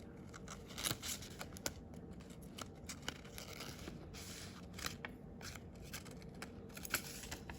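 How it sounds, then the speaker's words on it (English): Scissors snip away a stray bit of protruding tape on a paper tessellation craft, giving faint, scattered clicks and light snips over a quiet room, with no talking. "I have a little tape sticking out, so I'll just trim that off."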